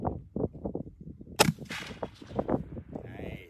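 A single sharp gunshot fired outdoors on a hunting trip, a loud crack followed by a brief decay, surrounded by people talking before and after.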